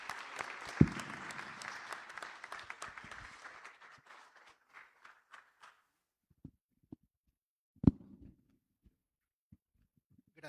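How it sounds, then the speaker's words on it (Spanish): An audience at a tribute event in Cajamarca breaks into applause to welcome a speaker, a busy burst of clapping that thins out after a few seconds into scattered claps, with a couple of isolated sharp hits and a thump later. "Recibimos a Cristóbal con un fuerte aplauso"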